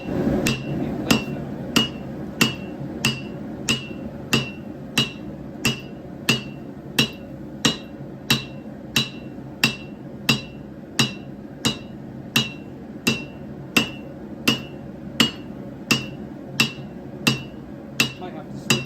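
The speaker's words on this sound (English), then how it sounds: "might have to switch to the lighter hammer soon" Steady, evenly spaced hand hammer blows ring out on steel while forging a San Mai knife billet, about one strike per second, loud and close, continuing without pause.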